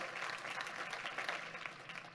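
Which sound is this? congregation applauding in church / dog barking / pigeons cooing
congregation applauding in church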